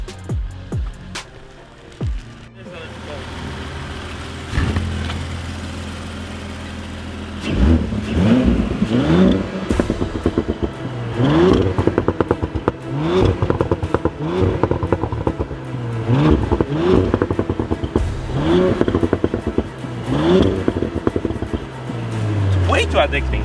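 A tuned Audi S4 B9 with a Stage 1+ tune pulls away and accelerates hard, its engine note rising and falling through repeated rev surges and gear changes while people in the car talk and react excitedly.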